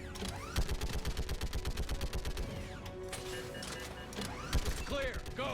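Rapid bursts of video game gunfire rattle in dense volleys during a firefight with Geth enemies near a shuttle, loud and continuous, with speech mixed in.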